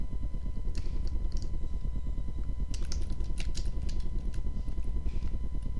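Typing on a computer keyboard, with irregular light key clicks in short clusters over a steady low hum from the machine, close by and no talking.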